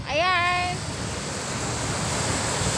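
Sea surf washing onto a beach with a dog nearby, a steady broadband roar of waves and wind that stays loud throughout, with a brief whistling tone near the start.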